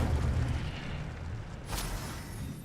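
An Incendio fire spell cast in Hogwarts Legacy, a dull booming whoosh of flame with a low rumble, followed by a sharper crackling burst.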